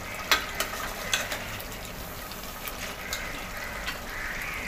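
Mutton pieces with onion and spices are sautéed and stirred in a pan, a soft continuous sizzle punctuated by a handful of sharp scrapes and clinks from a spoon, fairly close and moderately quiet.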